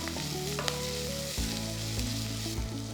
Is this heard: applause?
no